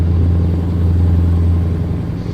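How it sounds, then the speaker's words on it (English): A Scania V8 truck engine in Euro Truck Simulator 2 gives a deep, loud, steady low rumble, a continuous droning idle with a slight fade toward the end. "I got overwhelmed by the sound of the Scania V8"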